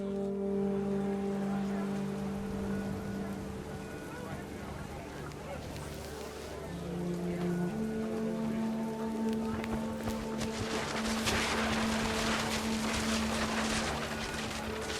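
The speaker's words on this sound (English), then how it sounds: "The rain came down in buckets then" Heavy rain in the video game What Remains of Edith Finch, a steady hiss of downpour beneath sustained tonal music that climbs midway, with a louder surge of rain near the end.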